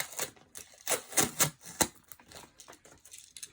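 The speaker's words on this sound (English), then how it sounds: "get a little noise of some tape here" Adhesive tape is handled up close during a jewelry untangling session: a short burst of sharp crackling, tearing clicks, a few louder snaps, then softer rustles.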